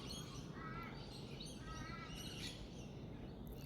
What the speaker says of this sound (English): So that's a crow. We have different kind of birds here.